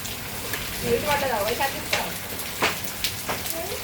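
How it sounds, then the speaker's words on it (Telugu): Large hailstones fall in a hailstorm over harvest-ready crop fields in Rajanna Sircilla district, a dense crackling patter broken by sharper, louder impacts. "ఇప్పటిదాకా ఆగిపోయినాయి, మళ్ళీ పెద్ద పెద్ద రాళ్ళు పడుతున్నాయి."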